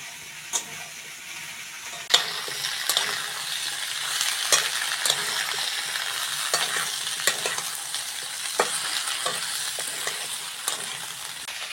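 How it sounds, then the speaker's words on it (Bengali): Potatoes and okra fry in a pan with a steady crackling sizzle, broken by sharp clicks of a spatula stirring and scraping throughout, close and alone with no voices. "আলুর সঙ্গে ঢেঁড়সটাও ভালো করে ভেজে নেব।"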